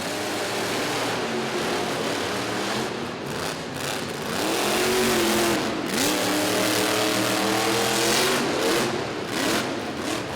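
Monster truck engines roar and rev during side-by-side arena racing at Rupp Arena in Lexington, a loud, sustained growl that surges and swoops in pitch as the trucks accelerate, with crowd and arena noise behind.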